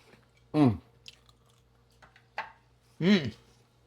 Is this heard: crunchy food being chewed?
yes